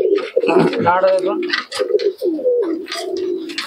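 A patta pigeon coos in low, rolling bursts close by at a Murshidabad pigeon market, while someone talks over the calls.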